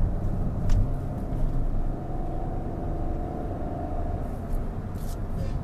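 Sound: Hyundai i20 N-line turbo petrol engine with dual exhaust

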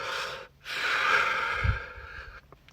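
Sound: deep breath exhaled slowly through tensed lips

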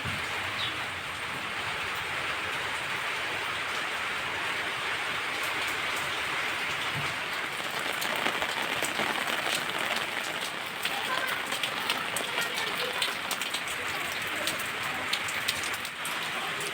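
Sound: rain falling

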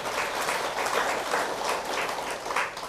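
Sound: applause

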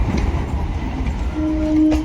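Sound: Ranaghat–Lalgola train passing

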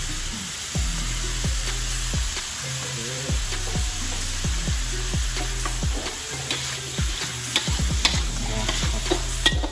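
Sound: stir-frying pork for fried rice

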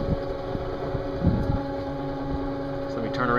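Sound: model boat with straight shaft prop motoring on lagoon

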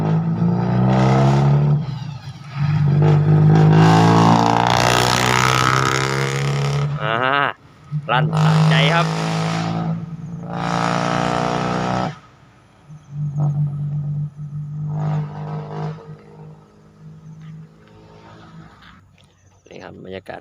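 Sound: car driving out

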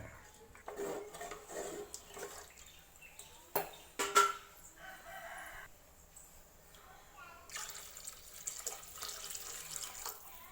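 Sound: pouring water into a cooking pan

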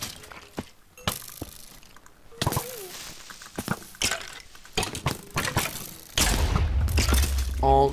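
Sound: explosions in a video game

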